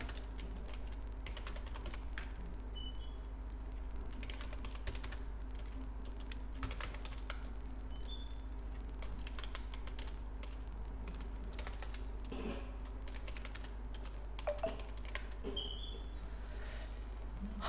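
Faint keyboard typing as names are entered into an Excel spreadsheet: scattered light clicks over a steady low electrical hum, with a few soft mouse clicks.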